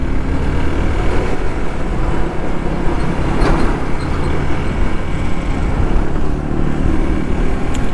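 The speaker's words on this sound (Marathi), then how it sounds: "दीदी is on the bike on Pulsar." A Bajaj Pulsar motorcycle on the move gives a steady, dense road roar blended with wind rush, constant and close throughout with no talking.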